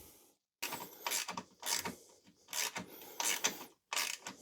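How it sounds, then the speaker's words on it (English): Wrench work on the 10mm exhaust bolts of a Suzuki V-Strom 1050DE, heard as close, repeated ratcheting and metallic rasping strokes in short bursts with brief pauses, no talking. "Let's get those bolts done up down the bottom there as well."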